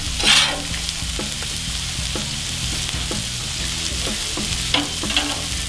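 Smash burgers sizzle loudly on a Cuisinart 360 griddle, a steady frying hiss broken by scraping and tapping of a spatula, close up and with no talking.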